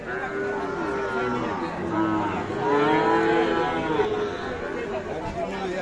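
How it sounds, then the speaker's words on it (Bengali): Sahiwal bull calves about six to seven months old mooing at a rural cattle market in Parbatipur, Dinajpur, with repeated drawn-out moos rising over steady crowd chatter and nearby voices. "এই যে আমরা দেখছি এখানে দুইটি শাহিওয়াল ষাঁড় বাছুর"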